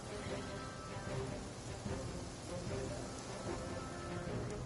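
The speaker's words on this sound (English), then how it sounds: "thank goodness it's raining anyway" Steady rain falls in the video game Genshin Impact, a dense, even hiss that runs unbroken throughout at a moderate, constant level, with no talking over it.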